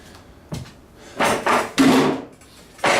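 Metal parts are knocked loose during an LS engine teardown, a few sharp knocks and clanks spaced over a few seconds, close by with no talk.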